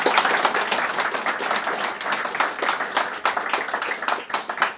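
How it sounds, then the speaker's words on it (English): A seminar audience gives a presenter a lively round of applause, with close, distinct hand claps forming a loud, uneven patter throughout. "let's give a big round of applause for our presenter."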